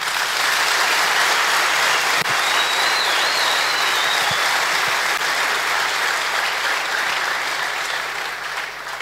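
A large crowd at a church youth department's 50th anniversary celebration in Hosaena claps in sustained, loud, even applause that fills the hall for several seconds and eases slightly toward the end, with no speech.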